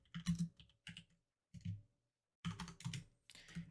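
Short bursts of typing on a computer keyboard, quiet and close, with clusters of keystrokes separated by brief pauses and no talking.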